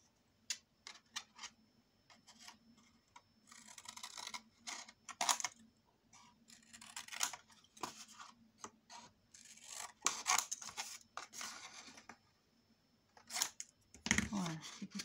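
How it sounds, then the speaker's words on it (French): Scissors snip the corners of folded paper for an autumn scrapbook album page, in repeated short, crisp cuts close by that come in irregular bursts with pauses between. "Couper les coins."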